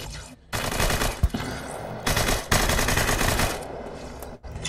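Rapid automatic gunfire from a gun in a tilted gun game, loud bursts of shots with short pauses between them, dense and continuous, no voices.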